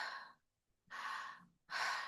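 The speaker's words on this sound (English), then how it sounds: "So that's a really short and shallow breath" Short, shallow breaths drawn in and out through the mouth, three airy puffs close to the microphone with brief silences between them.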